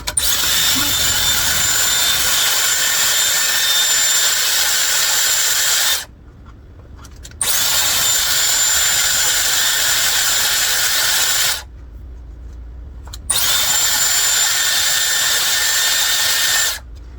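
A Dyson Airwrap hair styler blows air in a loud, steady, close-up whoosh, cutting out briefly twice between three long bursts.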